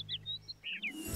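A cartoon little bird chirps several quick, bright tweets in a short burst, close and clear, with no talking.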